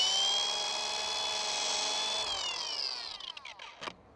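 A rotary car polisher spins steadily with a high tonal whine, running loud and close before winding down and fading out near the end, with no talk over it.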